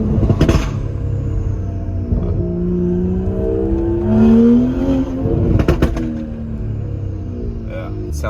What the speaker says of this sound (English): it sounds completely straight piped